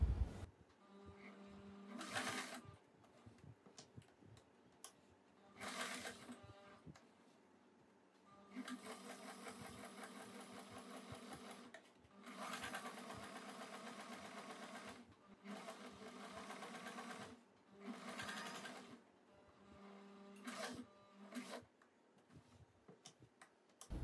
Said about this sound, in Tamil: இப்போ ஸ்டிச் பண்ணிக்கலாம். இப்போ முடிக்கும் போது ஒரு சின்னதாக ஒரு லாக் ஸ்டிச் மாதிரி போட்டு முடிச்சுக்கலாம்.